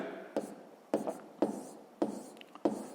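A pen writes out a math solution by hand in six short bursts of strokes at a steady pace, each scratch sharp at the start and then fading, close and fairly quiet with no voices.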